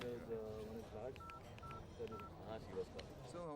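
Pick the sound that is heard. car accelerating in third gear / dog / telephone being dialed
telephone being dialed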